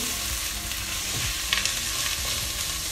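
Carrots, onions and garlic sizzle steadily in olive oil for a beef ragù, a dense, continuous frying hiss with a few soft stirring scrapes and no voices.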